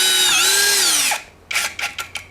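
A cheap MASARU cordless drill whines up at high speed for about a second and then winds down, followed by several short bursts of the motor being pulsed on and off.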